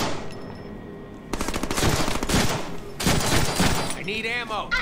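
Rapid automatic gunfire in the Deadpool video game comes in two dense bursts separated by a short pause, loud and close, with a voice briefly audible at the end.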